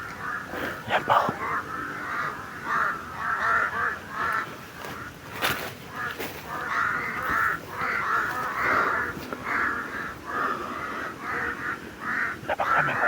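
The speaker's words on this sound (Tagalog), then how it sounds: "Napakaraming uwak tol." A large flock of crows caws almost without pause, the calls overlapping in steady waves and fairly close, with a voice or two now and then underneath.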